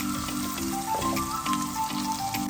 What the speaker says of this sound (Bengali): পেঁয়াজ মরিচ দিয়ে দিলাম, একটু ভেজে নেব পেঁয়াজ মরিচ